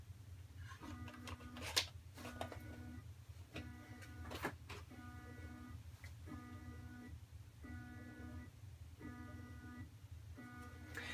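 A stepper motor driven by an Arduino motor shield runs in repeated short bursts of tonal whining, pausing briefly between each move, over a steady low hum with a few sharp clicks near the start.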